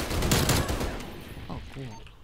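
Rapid bursts of Tec-9 pistol fire in a multiplayer video game crackle loudly up close during the first second, then trail off as a voice talks briefly.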